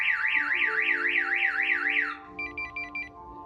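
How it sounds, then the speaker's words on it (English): Compustar alarm on a Nissan Silvia S15 sounds loud and close, a rapid rising-and-falling siren wail for about two seconds, then four short electronic chirps as it settles. "There you go, so that went off, which is what we want, and that's because the alarm was armed."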